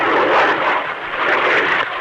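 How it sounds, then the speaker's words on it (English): A jet plane dives down through the sky, a loud broad roaring rush of engine and wind noise that swells and ebbs steadily across two seconds, with no talk over it. "look at that plane come down"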